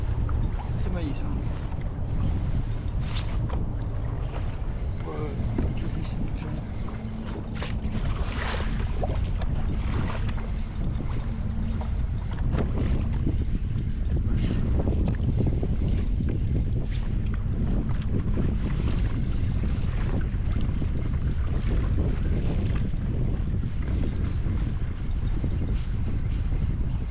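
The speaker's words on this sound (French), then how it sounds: "Là, le vent il me pousse dessus." Wind roaring steadily across the microphone while out fishing on a boat, a constant loud rush with faint shifting texture throughout and no clear pauses.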